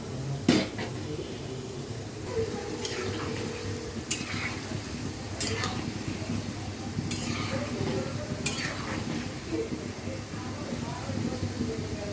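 Palm-fruit pitha fry in hot oil, a soft steady sizzle with occasional sharp clinks and scrapes of a utensil against the pan, close by, while a person talks throughout.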